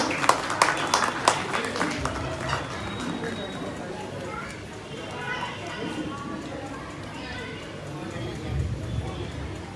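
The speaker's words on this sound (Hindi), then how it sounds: "हम चाहते हैं कि आप सभी लोग जोरदार इनका तालियों से स्वागत करें।" Audience applause at an awards ceremony welcoming a high school, dense clapping strongest at the start, then thinning into scattered claps mixed with voices and crowd murmur.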